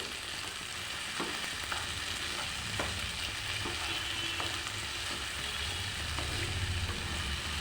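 Hilsa fish bones dropped into a pan of water lily stems frying with ginger, a steady broadband sizzle running throughout with a few faint clicks of stirring utensils against the pan.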